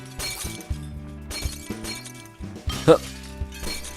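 Glass shattering in the Happy Wheels ragdoll video game, several sharp breaking crashes over game music and sound effects, with talking.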